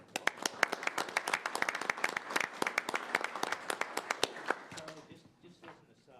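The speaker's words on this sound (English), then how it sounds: "Let's give them a round of applause." Audience at a hospital board meeting breaks into applause, individual claps sharp and dense for several seconds before thinning out and fading as a voice begins to talk near the end.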